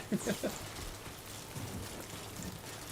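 Steady rain falls in the post-apocalyptic world of the video game Death Stranding 2, a dense, even hiss that lasts throughout, with a few faint vocal murmurs near the start.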